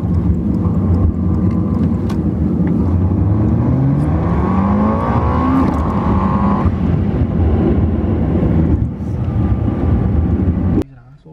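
Steady engine drone and road rumble inside a moving car, with rising and falling tones as it accelerates and shifts, continuous and close until it cuts off near the end.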